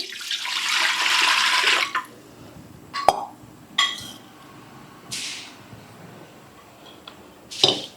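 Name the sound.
water poured into idli steamer pot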